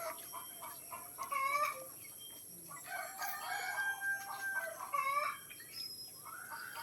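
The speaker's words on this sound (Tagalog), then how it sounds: "Ayan yung mga manok niya, oh." Chickens cluck and squawk nearby in scattered bursts, with a rooster crowing among them over a faint outdoor background.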